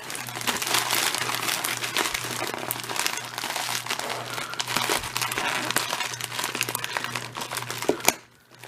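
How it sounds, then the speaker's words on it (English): Packing tape is ripped and peeled off a reused shipping package, giving a close, continuous crackling tear for about eight seconds that stops abruptly. "Let's go ahead and take this tape off."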